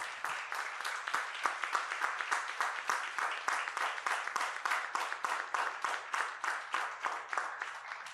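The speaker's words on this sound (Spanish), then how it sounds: "Vamos a brindarle un fuerte aplauso al Señor" A church congregation claps for the Lord in tight rhythmic unison, a steady beat of roughly three loud, crisp claps per second carrying on evenly throughout.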